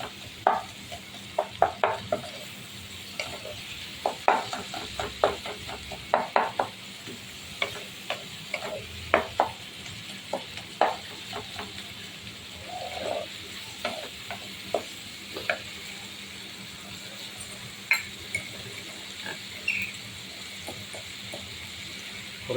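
Greens are stirred in a sizzling pan so they wilt. A soft steady fry runs underneath, broken by scattered light clinks and scrapes of the spoon against the pan, fairly quiet throughout with no talking.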